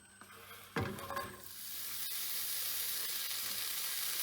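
Onions drop into hot sunflower oil in a frying pan with a sudden sizzle, then a steady frying hiss builds and continues, close and moderately loud.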